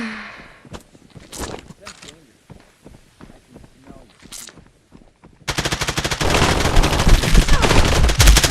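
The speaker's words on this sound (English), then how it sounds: "Someone's shooting at me." Automatic gunfire in the VR shooter game Exfilzone VR, starting midway as a loud, sustained rapid burst after scattered footsteps and softer sounds, with a person talking over the earlier part.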